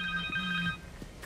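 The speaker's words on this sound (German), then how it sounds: "Telefon!" A telephone rings in Marvel's Spider-Man 2, a short electronic two-tone ring pattern with a bright warbling tone, clear and close, repeating briefly before cutting off.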